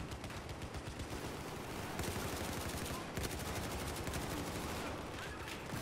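Dense, continuous gunfire from Battlefield 4 on PS4, with rapid automatic bursts layered over a constant roar of battle and sharp, louder shots cutting through at intervals.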